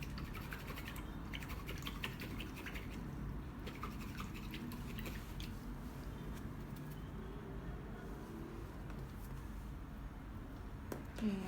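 A paint brush is swished and rubbed in a water container during an acrylic painting session, giving a continuous soft watery scrubbing that stays steady and quiet throughout.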